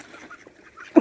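Ducks on a pond are mostly quiet, with faint outdoor background, until a single loud, close quack bursts in at the very end.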